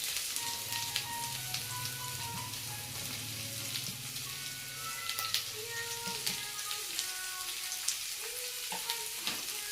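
Onions and garam masala with bay leaf fry in a pan for a Maharashtrian chicken rassa, giving a steady, quiet sizzle broken by light stirring clicks and small pops, with no one talking.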